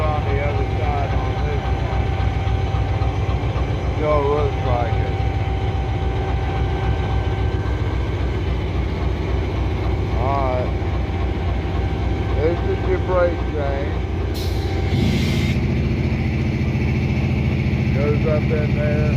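A newer diesel locomotive idles nearby with a steady low engine rumble throughout, while people talk over it.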